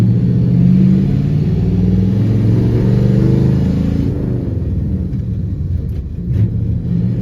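A Chevy Nova's engine rumbles loudly and steadily as the car pulls away in first gear, the mid-pitched drone easing slightly partway through with no voices over it.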